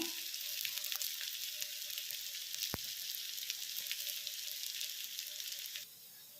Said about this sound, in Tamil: இப்போது அடுப்பில் ஒரு தோசைக்கல்லை வச்சு தோசைக்கல் காஞ்சதும் தோசட்டியில் இப்படி போட்டு வேக வச்சு எடுக்குவோம்